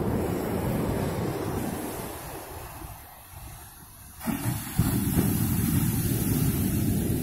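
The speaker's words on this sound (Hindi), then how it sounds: "इतनी बढ़िया लहरें" Ocean waves wash in and break at the shore with a steady hissing roar, easing to a softer lull midway before a fresh surge of surf, with wind buffeting the microphone.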